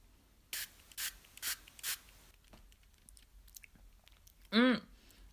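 An apricot-flavoured oral supplement spray is pumped into the mouth in four short, sharp hissing bursts at an even rhythm, close and quiet, followed by a brief voiced sound afterward.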